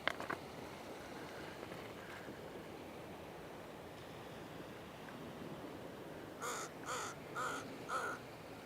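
A crow caws four times in quick succession near a coastline, loud and close over steady wave wash and wind.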